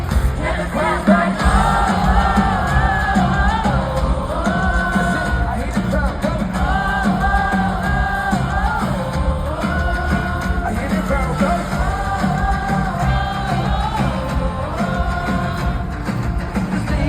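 A concert crowd at the Satellites Tour sings along loudly with yells mixed in, a dense sustained roar of many voices carrying the melody throughout.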